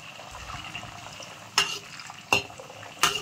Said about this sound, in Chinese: 油炸花生米，我們一定要有耐心，不要着急忙慌用大火。